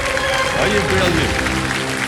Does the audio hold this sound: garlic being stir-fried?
no